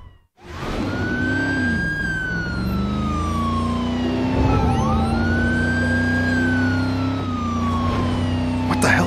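Ambulance siren in the driving video game Driver San Francisco, loud and close, wailing up and down in long sweeping cycles over a low engine drone, continuous throughout with no voices.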